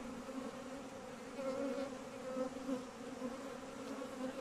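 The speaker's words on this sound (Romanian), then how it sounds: "Asta îmi place când zboară albinuțile." Honeybees fly around hives during a hive transfer, making a steady, dense buzzing drone throughout, with no talking.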